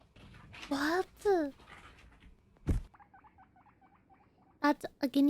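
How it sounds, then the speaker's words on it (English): A guinea pig gives a quick run of small, rhythmic squeaks as it walks, fairly faint and close, with louder voices speaking before and after. "That's a guinea pig. I like how he squeaks when he walks."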